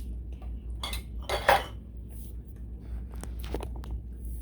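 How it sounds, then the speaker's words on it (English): Lids being screwed onto hot glass canning jars filled with French onion soup, a few light metallic clinks and taps, one sharper clatter midway, against a low background hum. "You want to put your lids on finger tight?"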